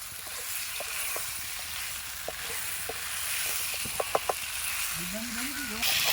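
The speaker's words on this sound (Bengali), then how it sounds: "আলুটাকে ভালো করে কষিয়ে নিতে হবে মশলা দিয়ে" Potatoes with spices fry for aloo dum in a pot over an open-air picnic fire, giving a steady soft sizzle with occasional stirring clicks, and a voice briefly rises near the end.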